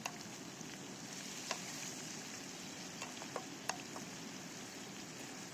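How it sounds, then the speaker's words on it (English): Food frying in a pan on an outdoor breakfast stove by the Yuba River, a steady soft sizzle with a few sharp clicks and scrapes as it is stirred around. "Stir that around."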